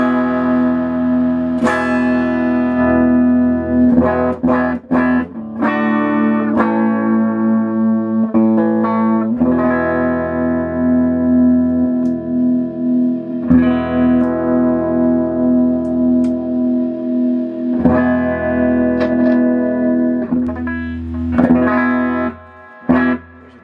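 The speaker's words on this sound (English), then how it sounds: "It's clean, you know, it's gonna be a clean amp." A Les Paul electric guitar played through a clean Ampeg GT-10 amplifier rings out loud and close with sustained chords and single notes, pausing briefly between phrases, no talking.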